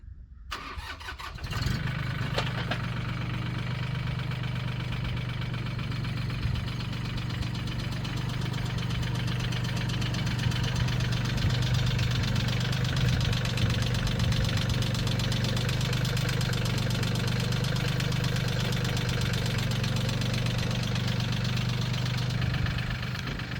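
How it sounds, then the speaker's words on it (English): A tractor engine runs steadily at a log mill, a loud low drone that fires up at the start and holds an even idle-like rumble throughout, with no talking. "drive that tractor through together so we can see if it clears"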